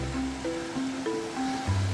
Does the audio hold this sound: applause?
no